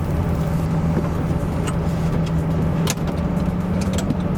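A V10 gated-shifter Lamborghini driving on a snowy road without snow tires gives a steady, close engine drone with road and tire rumble, holding an even level with brief faint clicks above.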